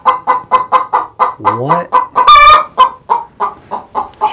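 Hens cluck repeatedly in a steady, close rhythm, one bird agitated and squawking loudly as she prepares to lay an egg, with a longer drawn-out call midway; a person briefly speaks.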